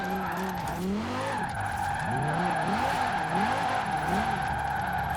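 Tyre screeches and a sliding engine note from a drift car in Forza Horizon 4, running long and steady with a high engine whine above warbling, looping squeals, and no talk over it.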